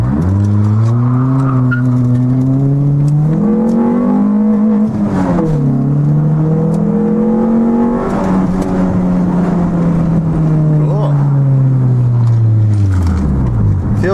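Honda Prelude on a test drive with no working speedometer and a neutral rev limiter, its engine droning steadily and loudly with rising and falling revs as it accelerates and shifts, close up from inside the car.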